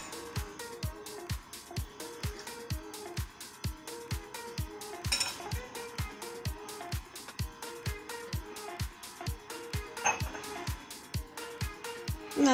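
Chicken pieces mixed with spices in a metal bowl for crispy chicken fry, giving a steady rhythmic run of clinks and scrapes, close and moderately loud, continuing without pause.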